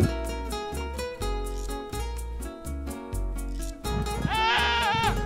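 Goats on Fuerteventura bleating over a steady rhythmic musical backing, the calls loud and close and recurring through the passage.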